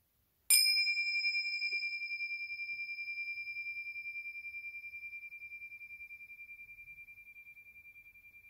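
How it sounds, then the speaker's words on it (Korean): A meditation bell struck once, giving a sharp bright strike and then a pure, steady ring that decays slowly over several seconds in a quiet space. "모든 긴장과 모든 생각들을 내려놓으시고 종소리에 집중해 주시기"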